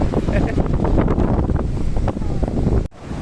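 Wind gusts buffet the microphone on a sandy beach, a loud continuous low rumble with rising and falling bursts, with a brief dropout near the end.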